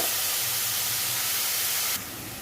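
Onion softening in a pan for a Maharashtrian wild-greens vegetable dish, giving a steady, close sizzling hiss throughout that drops slightly in level near the end, with no talking.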